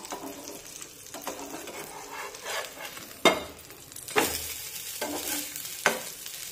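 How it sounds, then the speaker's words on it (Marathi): An egg paratha sizzling in a pan over a low flame, a soft steady fry broken by a few louder clatters and thumps as the paratha is flipped, close by with no talk. "आणि हा पराठा पलटून घेऊया"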